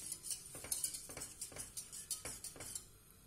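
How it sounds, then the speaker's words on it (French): Panna cotta mixture, made without gelatin, being whisked by hand in a bowl: quiet, rhythmic metallic clicks and scrapes at an even pace, close up and fading slightly toward the end, with no talking. "je ne cesse pas de fouetter"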